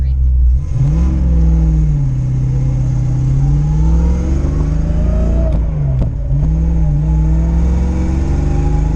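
Foxbody car engine with a worn, squealing belt and a recently adjusted idle, droning steadily while driving toward the mountains, its pitch rising and falling with shifts and revs, close and loud throughout.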